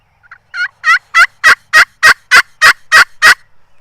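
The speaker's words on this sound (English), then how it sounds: "So when I go into a cluck, I can give enough pop on that sound that it has a more realistic tone." Turkey yelps made on a Ridge Rocker glass friction call: about ten sharp, raspy notes in a steady, rising series, loud and close, with no talk.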